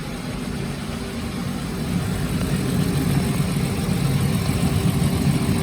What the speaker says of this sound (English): I'm gonna let the car idle for about maybe 5 minutes